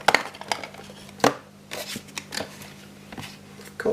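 A lid comes off a toy box from a swap meet haul, with cardboard scrapes and rustles, several sharp close taps and light handling noises over a faint hum, no talk.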